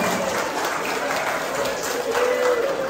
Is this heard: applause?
yes